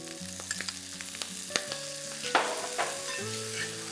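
Green peas tipped into a hot pan with morel mushrooms start sizzling and frying, with a few soft stirring knocks and clinks over a continuous crackle; no one speaks.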